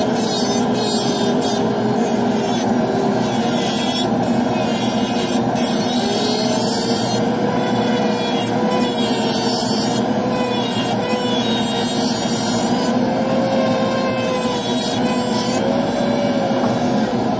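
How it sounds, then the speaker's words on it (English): A regular acrylic burr grinds the acrylic of a dental retainer, giving a continuous close rasping whine that holds steady and loud for the whole stretch. "I just like to use a regular acrylic burr sometimes."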